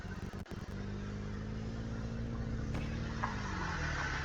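Car in the Roblox game Brookhaven driving along with a steady, loud engine drone and a brief dip near the start, no voices over it.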